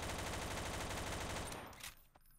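Rapid automatic gunfire in Garry's Mod, a loud, dense stream of close shots that fades out near the end, followed by a few scattered noises.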